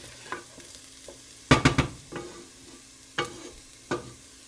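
Garlic cooking in a pot for a creamy chicken pot pie soup, heard as a faint steady sizzle beneath several sharp spoon scrapes and stirring clanks against the pot.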